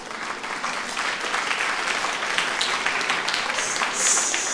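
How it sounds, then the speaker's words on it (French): Audience at a Christmas carol singing evening applauding, a steady, dense wash of clapping from a large crowd that holds throughout, fairly close and loud with no talk. "C'est vrai, vous pouvez vous applaudir."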